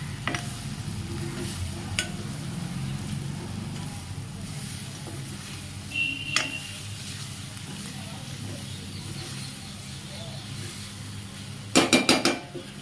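A spoon stirs food in a pan with little oil, giving a steady low scraping and soft sizzle, with faint clinks and a burst of metallic clatter near the end.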